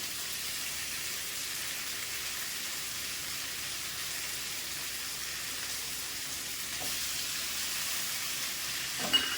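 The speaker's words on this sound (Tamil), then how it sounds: "வெங்காயம் கட் பண்ணி வச்சுருக்க வெங்காயம் போட்டு வதக்குவோம்" Chopped onions and medium tomatoes sautéing in a pan for a drumstick-leaf kuzhambu, giving a steady, even hiss of sizzling throughout, fairly quiet, with a small utensil knock at the very end.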